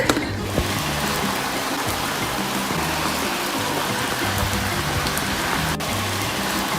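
Steady rain on the Camino de Santiago between Melide and Arzua, Spain, pattering on a surface, a continuous dense hiss of drops with no voices, close and fairly loud throughout.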